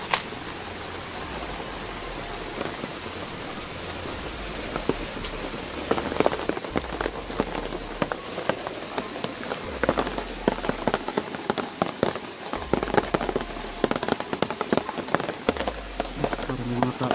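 Heavy rain pours steadily, a dense hiss of drops hitting surfaces with louder spatters and splashes nearby.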